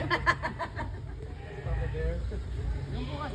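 Goat bleating at a safari park, a few faint, wavering bleats partly buried in outdoor crowd noise and rumble, with people chatting nearby.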